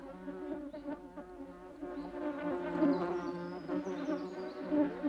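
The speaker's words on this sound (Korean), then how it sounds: "붓꽃이 꿀벌을 끌어들여 수분하는 모습도 볼 수 있다." Honeybees buzz around iris flowers in a mountain wetland, a steady, fairly close insect hum with a wavering pitch that rises and falls as they fly, heard alone without talk.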